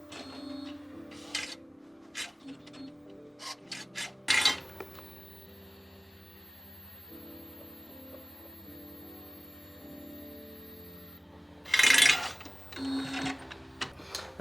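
A DTF 1000 printer runs its head cleaning cycle, giving a steady mechanical hum with clicks and a couple of sharp bursts of whirring, close and alone.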